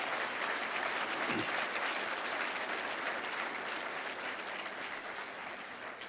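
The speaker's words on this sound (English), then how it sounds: "I think we owe them all a round of applause for being with us" Sustained audience applause fills a hall at a 2004 Democratic candidates forum, a dense steady wash of many hands clapping that gradually tapers toward the end.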